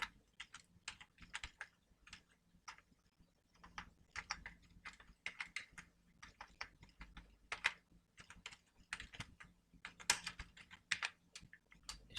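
Steady typing on a computer keyboard in Microsoft Word, with quick irregular bursts of key clicks running throughout, fairly close and clear, with no voice over it.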